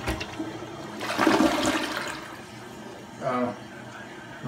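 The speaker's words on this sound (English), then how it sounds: "And let's do the single flush and see how that operates." A household toilet runs a single flush with debris dropped into the bowl, a rushing gurgle that swells then drains away, with a smaller second surge of water refilling near the end.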